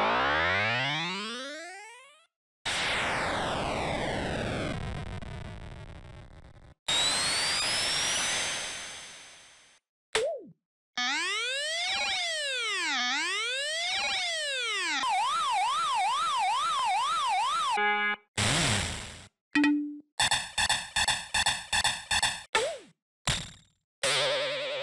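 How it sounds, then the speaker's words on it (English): Rapid run of Sonic the Hedgehog prototype sound-test effects from the video game: buzzers, vibrating tones, sweeping siren-like warbles, boings and footsteps, loud and electronic, each cut short and switching abruptly to the next with brief silent gaps. "These range from buzzers, to vibrating sounds, to footsteps."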